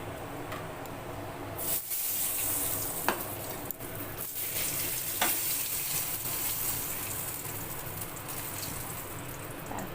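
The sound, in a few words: bay leaves sizzling in hot oil after frying fish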